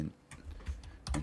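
A few quick keystrokes on a computer keyboard, faint and close, in short irregular bursts.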